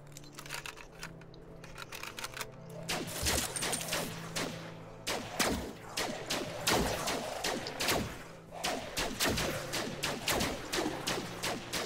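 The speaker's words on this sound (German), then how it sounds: "Einfach mal in die Masse reinschießen" Rapid bursts of video game gunfire in Fragmented crack repeatedly in dense volleys, loud and close, with brief gaps between the firing.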